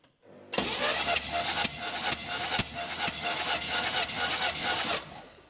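A 1970 Chevrolet K10 4x4 truck engine, abandoned for 26 years, cranks over steadily in a long rhythmic churn with sharp periodic clicks, loud and close, then stops.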